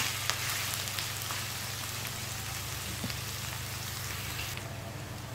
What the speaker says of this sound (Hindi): अभी इसी के अंदर हम देंगे प्याज। हम थोड़ा हल्का फ्राई करके लेंगे।